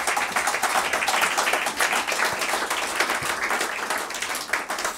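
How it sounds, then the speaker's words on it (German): Applause at a political Ash Wednesday rally hall, a broad, continuous clatter of many hands clapping that stays loud and even for several seconds. "Applaus"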